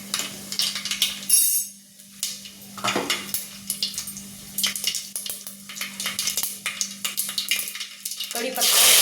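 Mustard seeds drop into hot oil for a sambar tempering, giving a close, busy crackle and a clatter of the pan, with a voice talking over it and a louder rush at the end.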